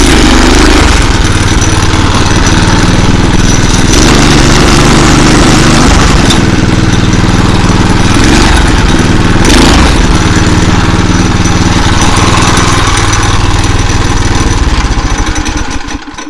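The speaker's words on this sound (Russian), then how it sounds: "можно посмотреть, как работает вариатор" A homemade motorcycle engine running with its CVT variator working, a very loud, close, rough mechanical drone with pulsing engine beats and shifting pitch that cuts off at the end.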